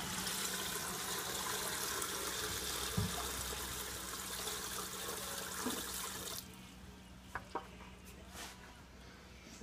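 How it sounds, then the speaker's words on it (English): Water pours steadily into an aquaponics tank in a vortex system, a broad continuous gush that cuts off abruptly partway through, leaving a few faint drips and clicks. "so that means I can safely dump in the rest of my water"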